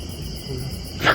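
An owl hoots at night in a dark, wild outdoor spot, a short call rising at the very end over a steady hiss of insects and night ambience.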